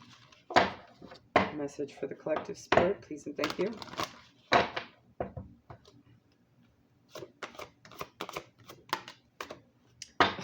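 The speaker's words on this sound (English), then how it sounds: "So let's do a side shuffle and pull." Oracle cards are side shuffled and drawn, the shuffling coming as crisp, close bursts of card riffles and taps with pauses between, while a voice speaks quietly over part of it.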